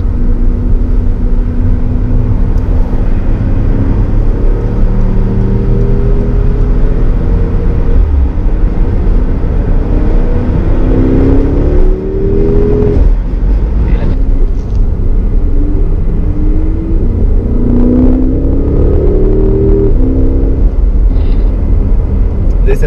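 Porsche sports cars on a 2018 road tour accelerate along a short, tight slip road onto the motorway, their engines producing a loud, continuous rumble and rising revs that fill the scene.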